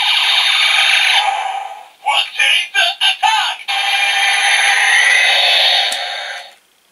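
Electronic attack sound effect from a Uchu Sentai Kyuranger DX Saiko Kyutama toy, a loud warbling siren-like tone broken in the middle by a stuttering run of short bursts before the steady tone returns and cuts off.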